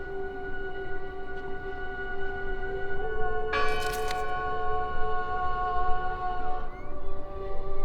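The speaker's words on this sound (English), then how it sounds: "Listen! The bell!" A church bell in the video game Draugen tolls with a long sustained metallic hum over a windy outdoor ambience, a brighter strike midway, moderately loud.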